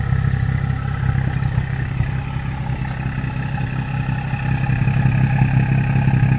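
BMW F30 335i with N55 engine, fitted with a resonator delete and new exhaust tips, idling with a steady deep exhaust rumble heard up close, continuous and even with slight swells, no voices over it.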